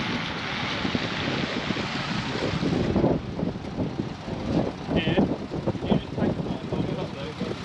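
Bitter cold wind buffets an outdoor microphone, a steady broadband roar with heavier gusts that swell and thump toward the middle, close and loud throughout.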